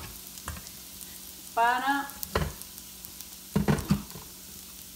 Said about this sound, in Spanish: Vamos a revisar nuestro arroz dándole vueltecitas.